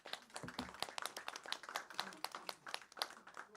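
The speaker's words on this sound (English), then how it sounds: "Let's give a round of applause." Audience applause after a talk at an air-pollution policy session, a smallish crowd clapping briskly with distinct, rapid individual claps, close and fairly dry, lasting only a few seconds.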